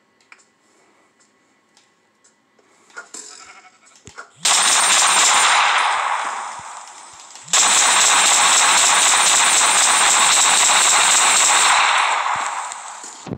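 Rapid automatic gunfire from a Call of Duty Mobile-style weapon in Minecraft on Xbox 360 comes in two long, loud, sustained bursts after a quieter start with scattered small clicks.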